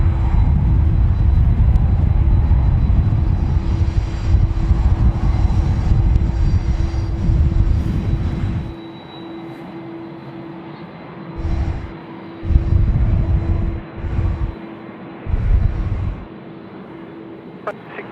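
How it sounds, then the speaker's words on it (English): A Qantas Boeing 737 takes off from runway 25 at Sydney Airport in windy weather. A loud, steady engine roar holds for about nine seconds, then drops away into quieter, intermittent rumbles. "runway 25, clear for takeoff, Qantas 737"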